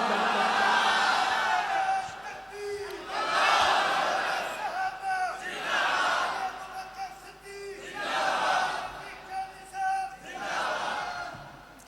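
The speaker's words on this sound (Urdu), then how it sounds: "ابھی مجمع کے لحاظ سے نعرے میں کمزوری ہے" A large crowd at a religious gathering shouts a slogan in unison, answering a preacher in several loud, roaring waves separated by brief pauses, with the speaker's voice leading between the chants.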